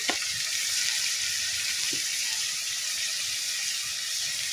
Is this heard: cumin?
yes